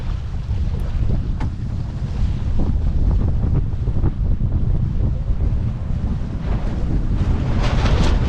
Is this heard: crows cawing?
no